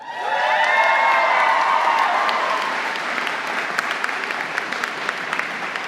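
An audience at a ceremony honoring the Maine Teacher of the Year gives sustained applause. The clapping is dense and loud, with some cheering early on, then eases to a thinner but steady patter.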